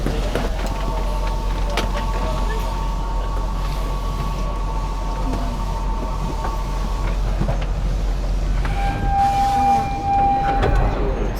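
Metro train in Tokyo riding along with a steady low rumble and hum, tonal electric motor whines rising and holding, continuous interior rolling noise under faint background voices.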